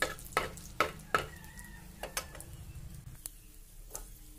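Dried red chilies and whole spices sizzle in a little hot oil over a quiet bed of frying, with several sharp clicks and taps from a utensil early on that thin out and fade later.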